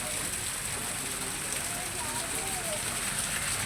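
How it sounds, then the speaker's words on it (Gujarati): Heavy, steady rain falling through the night, a dense continuous hiss of water on surfaces, close and even throughout with no break. "આખી રાતનો આટલો ફૂલ વરસાદ"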